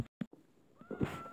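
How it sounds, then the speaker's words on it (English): A short, faint meow from a cat in Minecraft, heard alone after a couple of soft bumps, with quiet room noise around it. "I just heard a cat."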